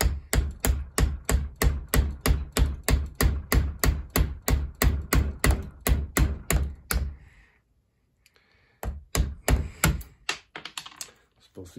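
A hammer taps steadily on a punch to drive a pin out of a Beretta 92 pistol clamped upside down in a vise, producing a fast, even run of sharp metallic knocks, then a pause and a few more taps.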